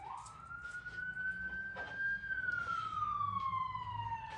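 Ambulance siren passing outside, a single long tone rising then falling away, distant and muffled beneath soft room noise and faint speech.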